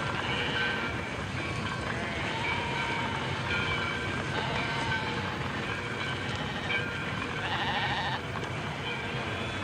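A flock of sheep being led into a slaughterhouse bleats repeatedly over a constant, heavy rumbling background that lasts throughout, with no talking.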